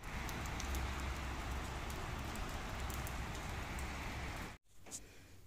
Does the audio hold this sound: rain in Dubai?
yes